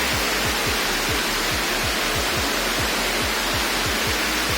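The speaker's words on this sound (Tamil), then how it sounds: "ஒரிஜினல் அப்படியே அருவி மாதிரி செட் பண்ணியிருக்காங்க" Steady, dense roar of an indoor waterfall inside Dubai Mall, loud and continuous with no pauses, a broad rushing wash of water filling the space.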